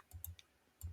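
Quiet mouse clicks in accounting software, sharp and close, in two pairs roughly a second apart, with no talk.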